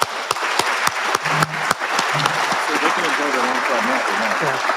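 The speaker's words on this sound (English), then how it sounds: "One more round of applause to our awardees." At an awards luncheon, an audience claps for the awardees, dense applause mixed with voices talking over it throughout.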